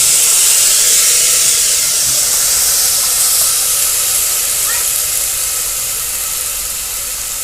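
Onions and potatoes dropped into a hot pan, hissing and sizzling loudly and steadily, close up, fading only slightly over several seconds.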